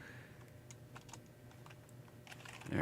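Keys clatter on a wireless computer keyboard in a quick, steady flurry of light clicks, close and fairly quiet over a faint background hum.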